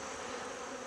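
Honeybees buzz around brood frames lifted from an open double-deep hive, a steady, dense hum of many wings, close and continuous without talking.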